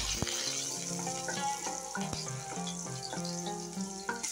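Ginger and garlic fry in peanut oil for a homemade momo filling, a steady close sizzle running under background music.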